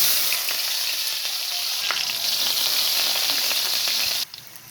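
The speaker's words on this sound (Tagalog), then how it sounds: "magluluto tayo ng masarap na sisig natin" Pork sisig sizzles steadily in a hot pan with a loud, continuous frying hiss, faint clicks of stirring throughout, and the sound cuts off abruptly near the end.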